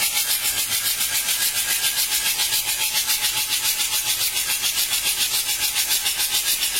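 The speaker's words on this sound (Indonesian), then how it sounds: "Untuk suara mesinnya udah halus dan kompresinya padat, juga udah empuk." A Mitsubishi L300 diesel engine idling after assembly and a rotor head replacement, a steady, even, close-up hum and hiss with a regular pulsing rhythm and no talking.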